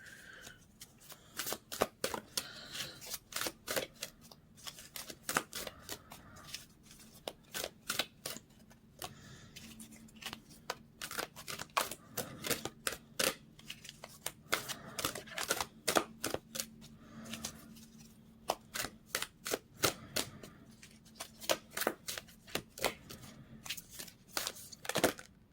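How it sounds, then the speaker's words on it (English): Tarot cards shuffled and drawn by hand, a long run of crisp, rapid card flicks and snaps close by, steady and fairly quiet with no voice over them. "we're going to get one more card from here"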